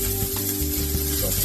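Lamb chops sizzle in hot oil in a pan, a steady close crackle with a faint low hum beneath and no talk.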